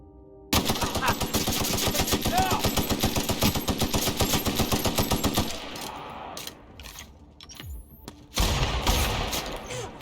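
Rapid automatic gunfire from a gun in the video game The Outer Worlds, a loud sustained burst of evenly spaced shots for several seconds, then a pause with scattered clatter and another loud blast near the end.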